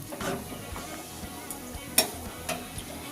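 Rice batter for chakli pitha sizzling as it is spread around a hot pan with a cloth and spatula, a soft continuous crackle broken by a few sharp scraping ticks and taps.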